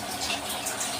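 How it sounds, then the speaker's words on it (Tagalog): Chicken tinola soup simmering in its own juices, a steady bubbling hiss heard close up and alone. "Nakulo na po ang ating tinola, guys. Pinakuluan muna natin siya sa sarili niyang"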